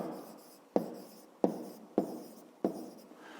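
An asterisk written by hand with a pen or pencil on paper during a maths exercise, four sharp scratchy strokes in an uneven rhythm, close and clear with no talk.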